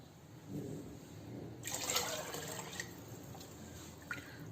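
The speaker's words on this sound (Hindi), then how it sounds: "थोड़ा सा पानी इसमें मैं और शामिल कर दूंगी" Water is poured into a pot of soaked chana dal on the stove: a quiet splashing burst of liquid that settles into faint trickling and dripping.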